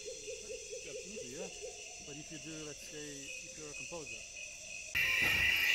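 Countless insects chirp at night in the rainforest, a dense, steady trilling chorus with repeated warbling calls over it, close and clear, before a louder hissing wash takes over near the end.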